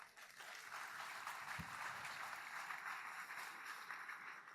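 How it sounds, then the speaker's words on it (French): Warm, sustained applause from an audience at a New Year's greetings speech, steady and even throughout, heard at a low, distant level. "On peut les applaudir chaleureusement."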